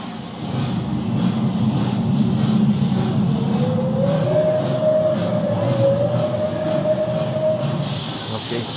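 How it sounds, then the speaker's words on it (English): Steam locomotive at the Sinsheim museum running with its main driving wheels turning, a steady close rumble and rolling chuff with a rising tonal whine joining midway, continuous throughout. "So here we have the main driving wheels in action."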